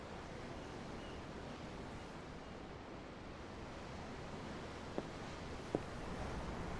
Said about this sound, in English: The ocean? Yeah. The waves.